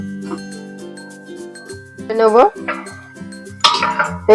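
Metal lid clatters onto a cooking pot of red amaranth greens being boiled with salt, two short clinks standing out over a steady tonal background.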